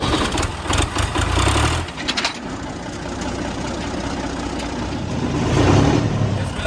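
A farm tractor's diesel engine running in a field, a loud, close, low rumbling throb that holds steady throughout with a brief dip in the middle and swells again near the end.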